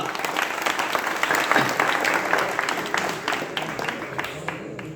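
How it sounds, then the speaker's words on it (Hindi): A seated audience at a Hindi poetry recital breaks into steady, dense applause that holds for several seconds before slowly thinning, heard close with no talking over it. "एक बार आप सभी ताली बजा दें"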